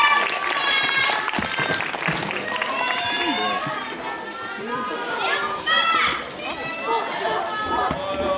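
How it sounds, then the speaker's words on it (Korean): Applause and crowd noise at a film live-talk event at a cinema, clapping mixed with excited chatter and shrieks from the audience, loud and busy, with voices talking over it. "저희 오분들 감독님께 다시 한번 박수 부탁드릴게요."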